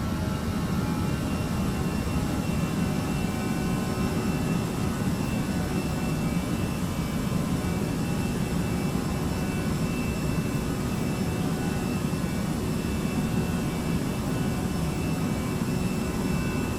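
Jet engines at climb thrust in the FodSim flight simulator game, a steady, dense roar with an even whine that holds unchanged throughout, no voices heard.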